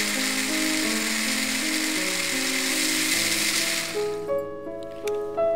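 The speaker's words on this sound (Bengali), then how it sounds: "আমি এখন এগুলোকে ব্লেন্ড করে ফেলব।" A kitchen blender whirs loudly and steadily as it grinds ingredients with oil into a paste, its motor pitch stepping up and down, then cutting out near the end and leaving a few faint clicks.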